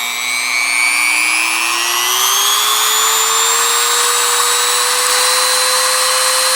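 A DEPSTECH rotary tool ramps up to maximum speed, its loud, close whine rising steadily in pitch over several seconds and then holding high, with no voices.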